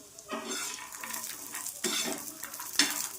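Peanuts and dried coconut dry-roasting in a pan over low heat, with a close rustling stir and scraping of a spoon against the metal in uneven bursts.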